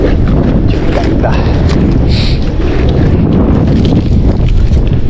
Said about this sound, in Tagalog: Ba't medyo malakas ang hangin ngayon?